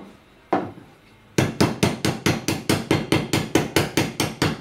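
Steady, loud hammer blows strike a metal fork laid on a block, about twenty sharp evenly spaced hits after two earlier isolated knocks, with no talking.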